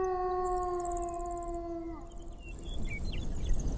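Wolves howl in long, sustained, wavering tones with layered harmonics, several voices overlapping, then trailing off into quieter yips and rustling wind noise.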